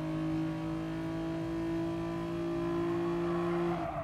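Race car engines in Gran Turismo Sport drone steadily at a sustained pitch with a strong tonal hum. Near the end the sound dips briefly, with no talk over it.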